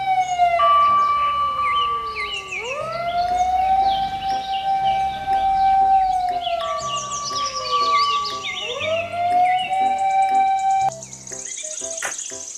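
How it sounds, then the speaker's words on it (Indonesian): A toy fire truck sounds its electronic siren, a loud wailing tone that rises and falls in repeated sweeps, with a short burst of beeps near the end. "Mobil truk pemadam kebakaran."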